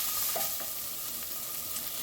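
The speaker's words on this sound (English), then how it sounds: "Gonna give that a mix." Onions and garlic paste sizzle in a pan while being stirred. Short scraping strokes sit over a bright, steady frying hiss, close and with no voices.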